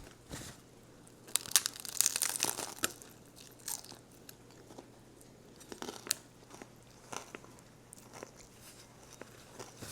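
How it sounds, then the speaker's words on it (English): Bites into a spicy shrimp taco with cilantro lime crema, giving crisp crunches up close followed by repeated chewing and crinkling over about ten seconds, with no talk. "All right, let's give it a taste."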